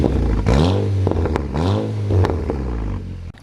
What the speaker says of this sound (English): I guess I'll give some revs.